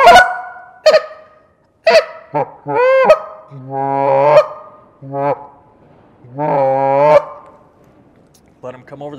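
Canada geese honk loudly and close, in repeated bursts and short runs of calls, as they fly over a decoy spread in a field, with brief pauses between the honking.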